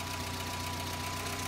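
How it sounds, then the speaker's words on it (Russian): A Renault car engine fitted with a carburetor idles steadily and evenly throughout, a constant low hum with a faint knocking pulse and no voices. "Ты видишь, и двигатель работает отлично. Замечательно работает мотор."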